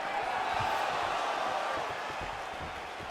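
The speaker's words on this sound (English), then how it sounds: "You hear this crowd just eating out of his hand, oohing and on every time he advances." A crowd in the EA Sports UFC video game, during an Adesanya vs. Pereira title fight, keeps up a steady dense roar with swelling murmurs, heard as continuous broadband noise with faint thuds underneath.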